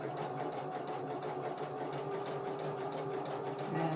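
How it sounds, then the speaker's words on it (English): A sewing machine top-stitches a camo pouch, running in a steady, even whir with a fast rhythmic stitching beat from start to finish, close and clear with no talking. "I'm just going to top stitch it."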